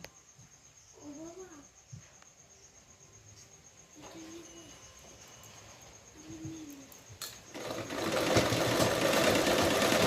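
A sewing machine runs in a loud, fast continuous whir near the end, stitching the neck band of a princess-cut blouse, after a quiet stretch with faint background sounds.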